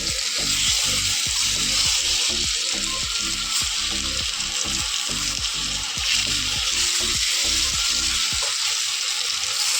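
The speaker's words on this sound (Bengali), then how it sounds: "আমি এদিকে ফ্রাই প্যানে করে আলাদা করে আবার আলু ভাজাটা ফুসিয়ে দিয়েছি" Potatoes frying in a frying pan give a steady, loud sizzle with rhythmic low stirring or scraping pulses through most of the clip, easing off near the end; no voices.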